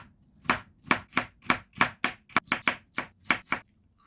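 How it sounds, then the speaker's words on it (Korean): Knife cutting seeded bell pepper into thin strips on a cutting board, about a dozen crisp close chops in a fairly even rhythm, a few coming in quick pairs, with quiet between strokes. "이렇게 씨를 빼고 잘 썰은 다음에 채 썰어 주세요"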